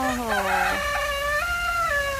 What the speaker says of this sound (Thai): นี่เช้าแล้วไก่ขัน